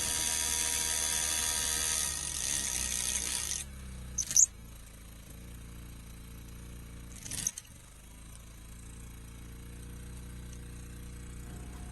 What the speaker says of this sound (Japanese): ぐりぐり穴が開くわけではなく、こんな感じでゆっくりしか穴が開きません。